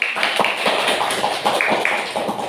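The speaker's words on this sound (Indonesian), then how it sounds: "Tepuk tangan dulu" A group in a classroom claps in quick uneven bursts, sharp close hand claps repeating rapidly for a couple of seconds with no talking over them.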